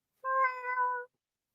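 A person imitates a cat's meow with a single drawn-out, tonal mew lasting about a second, clear and close with silence around it and no talk.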